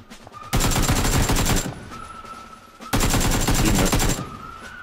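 Full-auto rifle fire in PUBG on the snowy Vikendi map: two long, loud, rapid bursts of gunfire, each lasting over a second, separated by a short pause, with no talking over them.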